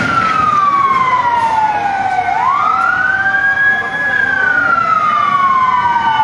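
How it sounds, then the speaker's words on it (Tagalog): Fire truck siren arriving at a house fire in a residential area, a loud wailing tone that falls, then rises and falls again in long sweeps, close and dominant over traffic noise. "Ayan na, may dumating pa na ano, bumbero."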